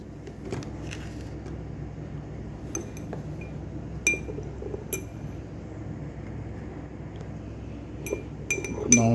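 A spoon stirs salt water in a drinking glass, giving light, scattered clinks and taps against the glass over a quiet background, close and fairly soft, with no voices.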